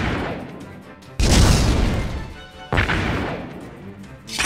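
Heavy mortar rounds fired in a video game, two loud crashing booms a little over a second apart, each with a long rumbling tail.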